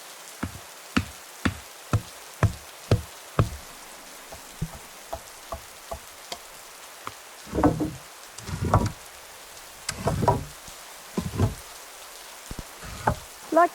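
Raindrops strike a bushcraft shelter as sharp, irregular knocks and taps, some isolated and some in short clustered bursts, close and fairly loud against near silence.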